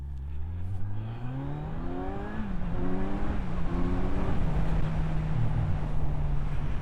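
A 2021 Kawasaki Z900 motorcycle pulls away in first gear and accelerates, its engine note climbing and shifting up through gears, loud and close with steady wind rush and no talking.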